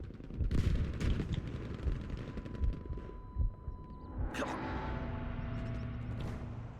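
Gunfire in Battlefield 5 on the Marita map: rapid bursts of automatic fire and scattered shots crackle continuously at moderate distance, with a louder sharp blast partway through and no talk.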